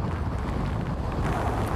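Strong hurricane wind gusts from Hurricane Hanna roar as a constant, loud rush that buffets the microphone with no break.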